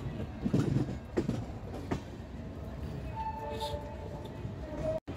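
A train rumbles steadily along the rails approaching Bhusawal Junction, with faint clattering and a thin, sustained squeal, a voice briefly heard at the start.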